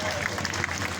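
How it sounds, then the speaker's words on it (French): An audience at a French protest gathering applauds in a steady, dense wash of clapping throughout the moment, with crowd noise mixed in. "Donc on peut déjà l'applaudir"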